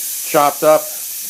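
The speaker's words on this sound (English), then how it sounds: "the pressure cooker has started doing its job. It's going to be rattling off like that for a while. The steam's coming out of there slowly." A pressure cooker cooking black beans and rice lets off a steady hiss of escaping steam, broken by two short, louder tonal rattling puffs in close succession.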